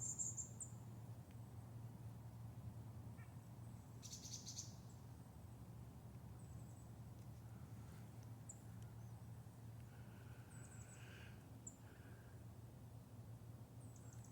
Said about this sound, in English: Okay, the chickadees showed up.